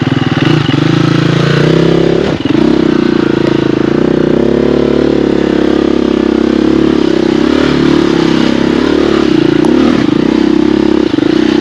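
A 2024 KTM 300 TBI hard enduro dirt bike rides through fresh snow on a Pacific Northwest trail, its engine droning loud and close without a break, with a brief dip in pitch partway through.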